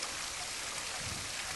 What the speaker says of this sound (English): Oh, this water trickling down.